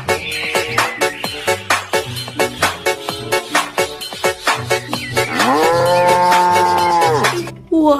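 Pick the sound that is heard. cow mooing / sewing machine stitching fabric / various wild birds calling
cow mooing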